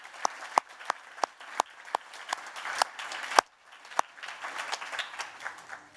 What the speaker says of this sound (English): I think we should probably do one more round of applause for all the shortlistees